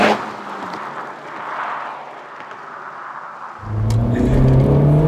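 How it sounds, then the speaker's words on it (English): A turbocharged Honda Civic Type R engine whirs and builds, then surges louder in a strong rev near the end, heard close up with no talking. "it still revs even though it's a turbo"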